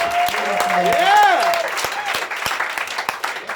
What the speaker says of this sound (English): let's clap it up for both these guys.